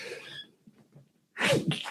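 A single sharp sneeze bursts out near the end after a brief quiet pause, close and loud.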